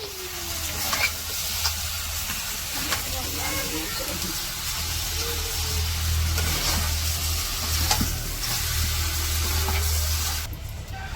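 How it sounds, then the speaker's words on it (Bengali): Quail pieces stir-fry with spices in a village-style pan, giving a continuous hissing sizzle under repeated scraping and clattering stirs, close up, with a low steady hum behind. "কোয়েলগুলো সুন্দর করে ভালো করে কষিয়ে নিব মিশিয়ে মশলার সাথে ভালো করে মিশিয়ে কষিয়ে নিব"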